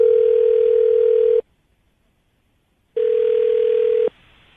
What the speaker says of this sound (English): We're going to get her on the phone right now